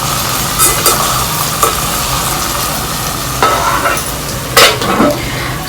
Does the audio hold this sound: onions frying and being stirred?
yes